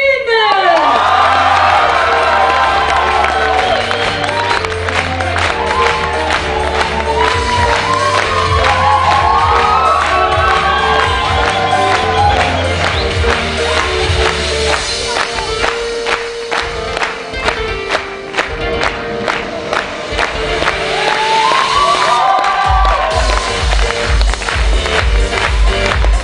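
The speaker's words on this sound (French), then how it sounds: "Sous vos applaudissements" A school show audience in Millau cheers and shouts, with children's whoops, steady crowd noise and claps running loud throughout, while music plays along and a low beat enters near the end.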